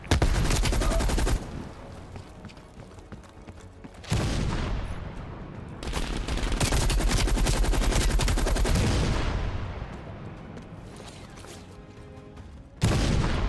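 Sustained machine gun bursts and heavy gunfire in a Cold War era video game campaign, loud and dense, running in long stretches with brief drops between volleys and a sharp fresh burst near the end.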